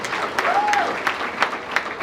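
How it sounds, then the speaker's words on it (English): Steady applause from an audience fills the space, with individual claps popping through the dense patter and a voice audible underneath. "Let's give them a big round of applause as well."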